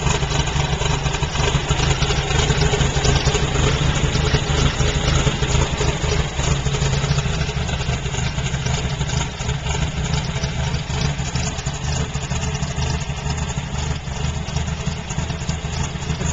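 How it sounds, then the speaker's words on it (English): A Volkswagen Baja Bug's turbocharged engine with MegaSquirt fuel injection idles steadily and loudly at close range while warming up, a continuous rumbling drone that barely changes over the whole stretch. "as the engine warms up, it's starting to trim the idle back down."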